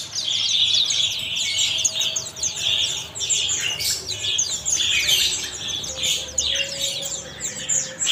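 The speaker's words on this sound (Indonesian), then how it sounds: "ini stok dari burung peleci bukso" White-eye birds (pleci) in cages at a bird shop chirp and twitter constantly, bright overlapping calls near and busy, with no voices over them.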